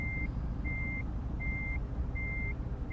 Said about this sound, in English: it could beep every single time you get a certain bit of distance